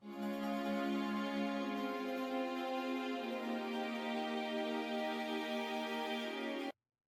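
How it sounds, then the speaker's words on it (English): Sustained synth-style string section playing layered chords for the second breakdown of a produced track, steady and full for about six and a half seconds before cutting off abruptly. "Then I've added some strings to this"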